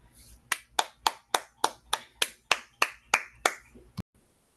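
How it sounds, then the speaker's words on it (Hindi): A congregation at an evening prayer meeting claps in a steady rhythm to welcome the pastor, about a dozen sharp, even claps close together, then a sudden stop into silence. "अब आप सबकी ज़ोरदार तालियों में मैं वेलकम करती हूँ खुदावंद के बंदा को"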